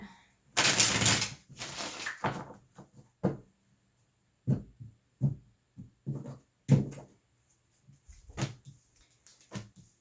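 Rapid riffling of a tarot deck being shuffled, then a series of soft irregular taps and flicks as cards are handled, close and quiet.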